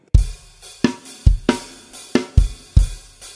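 A song's drum groove, here without crash cymbals: close, dry kick and snare strikes in an even, repeating pattern, about seven sharp hits, played alone.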